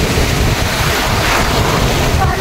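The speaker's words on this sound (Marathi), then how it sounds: "लाटाले घाने येतात" Sea waves surge and crash continuously at close range, a dense roar mixed with heavy wind buffeting the microphone, with no clear pauses between breakers.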